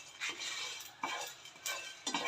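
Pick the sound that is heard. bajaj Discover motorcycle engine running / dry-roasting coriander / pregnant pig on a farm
dry-roasting coriander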